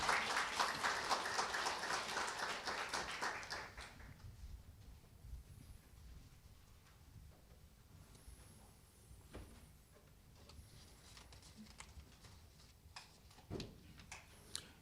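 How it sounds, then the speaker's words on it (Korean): A dense burst of audience clapping fills the first few seconds at a district office staff meeting's award ceremony, then fades out, leaving a quiet room with scattered faint knocks and rustles. "축하의 박수를 보내주시기 바랍니다."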